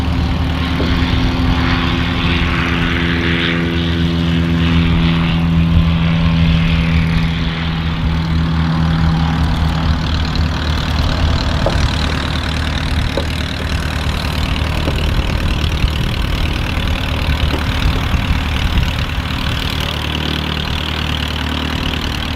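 Light aircraft engines starting up and idling on the apron at Manchester City Airport, a loud steady propeller drone with a shifting low hum that runs continuously, close by and unbroken.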